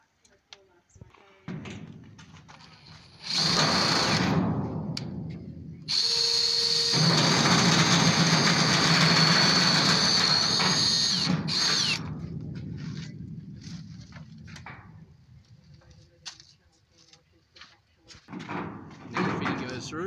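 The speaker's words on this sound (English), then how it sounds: "Now with a hole saw we're going to drill the hole to fit the 1-inch fitting that we're going to use." A hole saw cuts through the wall of a wicking bed container to fit a 1-inch fitting, giving a loud sustained grinding whine in two long bursts, with quieter handling noises afterward.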